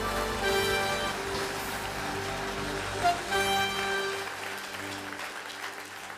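A church congregation applauds steadily, a dense wash of clapping under music with held tones, then slowly fades.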